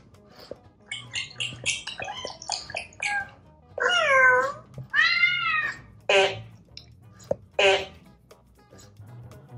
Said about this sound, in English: Then he meows, meow.